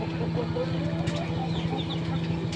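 Chickens cluck in short, repeated calls nearby during beak trimming, layered over a steady low hum and background noise.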